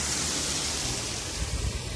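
Loud waterfall on a river at Windom, Mirzapur: a steady, dense roar of rushing water filling the whole clip, close and constant with no voices.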